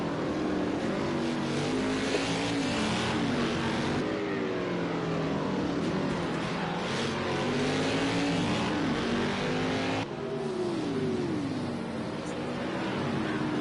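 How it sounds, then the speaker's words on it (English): Racing video game cars pit at the Streets of Long Beach circuit, with engines whining and rising and falling through gear changes, several cars overlapping in a continuous, fairly loud drone. "More cars are pitting in Long Beach."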